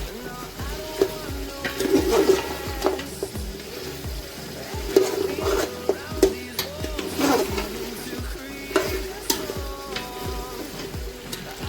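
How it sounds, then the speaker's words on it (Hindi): Goat trotters fry in a spice masala in a pot for a hotel-style mutton paya, giving a steady close sizzle with scattered stirring clatter and small scrapes throughout. "अच्छी तरह पाए को मसाले में फ्राई करना है"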